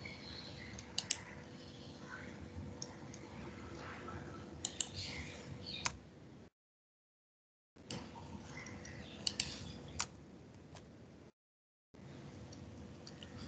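Someone types a program on a computer keyboard, producing steady soft key clicks with a few sharper taps, close and quiet over a faint hum, broken by two brief silent gaps, with no speech.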